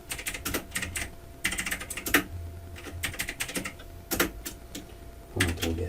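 Fingers type text into a slide on a computer keyboard in quick bursts of soft, close key clicks, separated by brief pauses.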